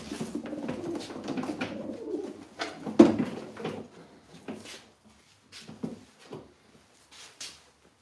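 Soft, low pigeon coos from breeding racing pigeons repeating irregularly, mixed with a few light knocks and rustles nearby; fairly quiet overall with no speech.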